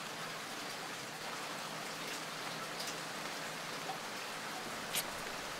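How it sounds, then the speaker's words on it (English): Steady rain falls with a soft, even hiss and scattered droplets, faint and continuous, with no voices. "It's raining outside."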